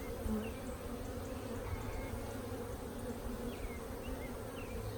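Honeybees crowding a hive frame during a nucleus install make a steady, close, dense buzz that runs unbroken throughout.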